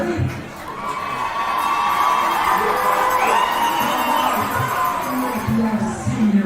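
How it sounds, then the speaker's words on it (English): A crowd at a high school homecoming event cheers and whoops loudly, with shouting voices blending into a continuous roar that swells and holds. "Let's hear it, crowd."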